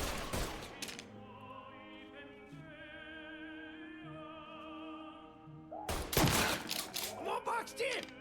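Gunfire in Mafia 3, a loud burst of shots at the start and another heavy volley near the end, with a sustained musical tone between them.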